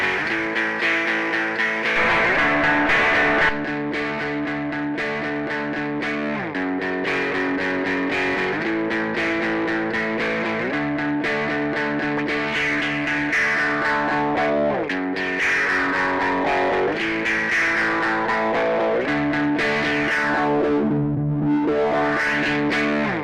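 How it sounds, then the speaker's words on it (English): Bright, funky crunch distortion on an electric guitar in Logic Pro X, strummed chords ringing with a driven, slightly chorused tone, loud and steady throughout with no talking. "Let's say this bright, funky crunch."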